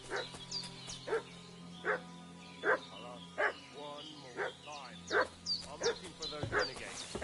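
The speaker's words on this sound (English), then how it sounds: "What's that dog making such a fuss about?" A dog in the Kingdom Come Deliverance 2 video game barks repeatedly in a steady rhythm of sharp, fairly loud barks at close to middle distance, over a low game ambience.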